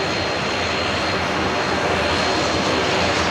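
A Qantas jet airliner on its takeoff roll at Brisbane Airport at night, a loud, continuous broadband engine roar that stays steady throughout the short stretch.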